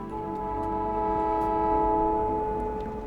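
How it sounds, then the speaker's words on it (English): Factorio train horn from a mod, a sustained loud multi-tone honk held steadily for several seconds over low rumbling. "Oh, and the mod that adds a honk."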